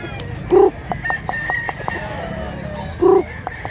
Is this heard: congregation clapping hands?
no